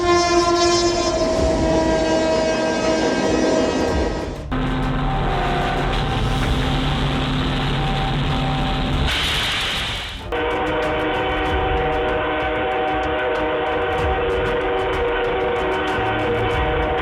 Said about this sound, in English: A video that went viral this Saturday shows a tsunami caused by a train passing through a flooded